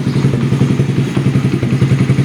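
A 1994 Honda Z50R mini bike engine idles while warming up, a loud, close, rapid chugging putter with a steady, slightly uneven rhythm.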